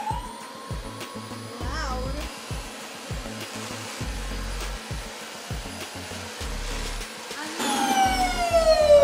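A Dyson vacuum cleaner runs with a loud steady whine, its motor pulsing and rising in pitch near the end, with a voice briefly underneath.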